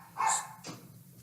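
A Pomeranian gives one sharp, high yip-like bark, followed by a softer short sound, heard indoors somewhat in the background.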